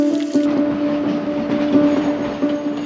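A train runs along a railway track beside urban settlement housing, producing a loud, continuous rumble with a sustained tonal hum and occasional clattering wheel knocks throughout.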